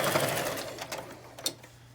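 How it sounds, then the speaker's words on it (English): A sewing machine runs a basting stitch along a quilt seam in a quiet, continuous whir that trails off after about two seconds, with no voices. "I'm just doing my basting here."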